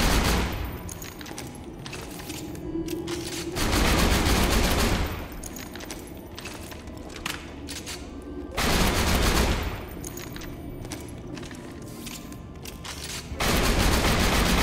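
The Butcher shotgun firing in Borderlands 2 gives repeated heavy volleys of gunfire in dense, loud bursts with brief gaps, layered over steady game noise throughout.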